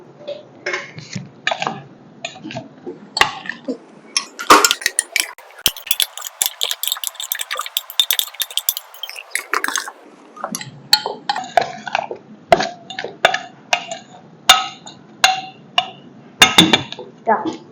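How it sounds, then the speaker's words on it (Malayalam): Raw green mango pickle being stirred with a spoon after hot oil is poured in, a series of scattered metallic clinks and scrapes, with a stretch of sizzling in the middle. "മാങ്ങ നല്ലപോലെ ഒന്ന് ഇളക്കി കൊടുക്കാം"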